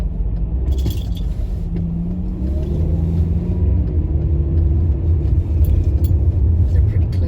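A car drives along snowy, slippery streets, its engine and tyres making a steady low rumble throughout, with a person talking over the road noise.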